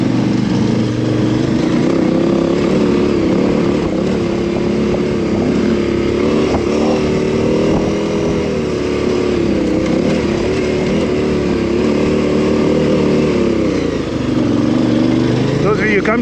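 An adventure motorcycle with a rally throttle is ridden at a steady loud drone, the engine note rising and falling as the throttle opens and eases, recorded close from the bike with a voice heard over it.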